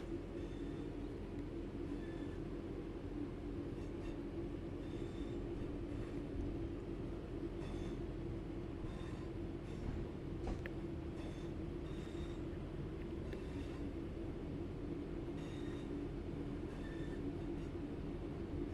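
In the Train Sim 5 game, a train on the Blackpool to Manchester Airport line coasts on a tiny bit of power. It gives a steady, even rumble of wheels and motor with faint clicks and chimes over it, and no talk.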